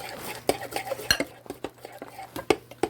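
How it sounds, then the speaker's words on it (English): A knife whisking chocolate fudge pudding mixture in a bowl; quick, irregular clinks and scraping strokes of metal against the dish, close and fairly loud, with faint background murmur. "You want to whisk it as fast as you can. And yes, I say whisk with a knife."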